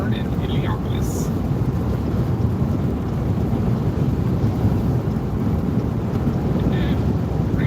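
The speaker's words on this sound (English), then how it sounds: "And rain easing up a little bit now." Heavy rain pours during a storm, a loud, dense, unbroken hiss with wind buffeting the microphone and a few faint brief higher tones over the top.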